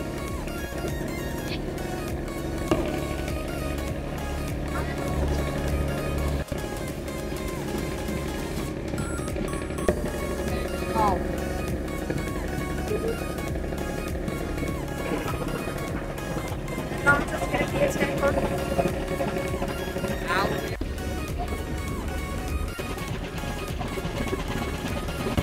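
A passenger launch, a river ferry, is under way on the route from Dhaka to Bhola. Its engine gives a continuous low rumble and hum, and people talk steadily over the vessel noise.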